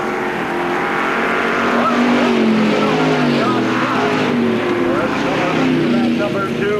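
Street stock race cars roar around the Knox County Raceway oval during a heat race, engines droning loud and continuous with shifting pitch as they pass, a track announcer talking over the noise.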